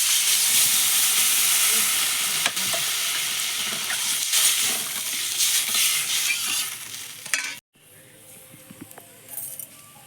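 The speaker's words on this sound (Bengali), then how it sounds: "এবার জল দিয়ে দেবো এর মধ্যে" Water hits a hot pan of lightly fried onions with a loud, rushing hiss of steam and bubbling that holds for several seconds, then drops off sharply into a quieter simmer with faint clinks.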